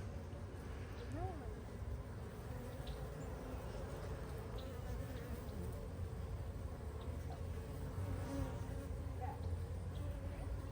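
Honeybees buzz steadily inside an open hive as they inspect a newly introduced queen, a dense, continuous drone close to the ear with no calm or aggressive spikes standing out.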